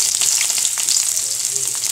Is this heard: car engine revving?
no